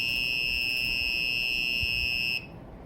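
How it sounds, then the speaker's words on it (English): A piezo buzzer in a light-triggered circuit sounds a loud, steady, piercing high-pitched tone after a flashlight flash, holding for over two seconds before cutting off abruptly. "the buzzer makes a very unpleasant sound for about 3 seconds"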